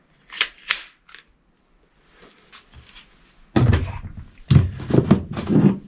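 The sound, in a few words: pistol pulled out of a retention holster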